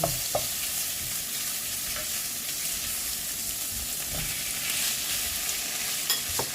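Minced pork stir-frying in a hot pan for pad kaprao, a loud continuous sizzle broken by a few sharp spatula scrapes and knocks against the pan, with no talking.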